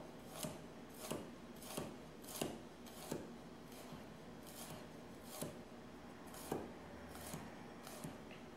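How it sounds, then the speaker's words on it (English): A knife slicing thin through garlic on a cutting board, with a steady series of crisp, soft cuts about every half second, close and quiet, with no talking. "then I'm just going to turn the garlic and I'll give it a cut this way in this direction"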